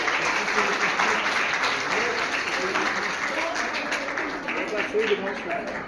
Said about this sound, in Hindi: जोरदार तालियां कंचन जी के लिए